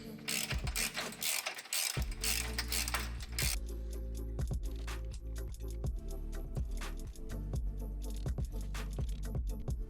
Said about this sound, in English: And now go ahead and finish up by tightening everything down.